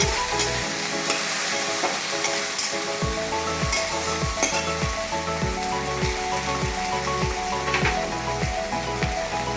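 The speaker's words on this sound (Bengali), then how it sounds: "এর মধ্যে দিয়ে দিচ্ছি একটি টমেটো কুচি, ভালোভাবে নেড়ে নিচ্ছি।" Chopped tomato is stirred into a sizzling potato and pointed gourd curry frying in a pan, with steady oil crackle under a rhythm of repeated spatula scrapes, close and fairly loud.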